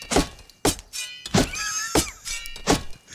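Chopping wood in the survival video game Rust, with five or six loud, close, hollow thunks of a tool striking a tree at an uneven pace, one hit followed by a brief ringing tone.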